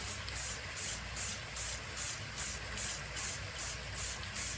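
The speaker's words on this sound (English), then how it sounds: "All right, spray that around." Rhythmic bursts of aerosol spray hiss from a spray can coating a tumbler, about a dozen short pulses in steady succession, close and fairly quiet.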